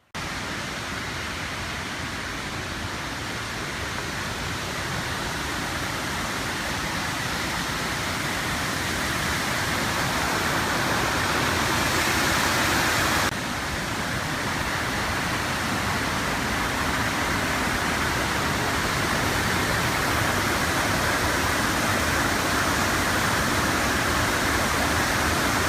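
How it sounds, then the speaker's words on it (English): Sable Falls waterfall at Pictured Rocks, Michigan, a steady loud broadband rush of falling water that holds constant throughout with no talking. "Beautiful waterfall."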